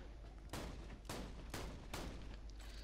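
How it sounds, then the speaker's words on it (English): Super shotgun blasts from a Borderlands video game, four heavy booming shots in steady succession, each a broad burst with a short tail, loud and alone with no talk. "Look how many pellets I shoot. Super shotgun."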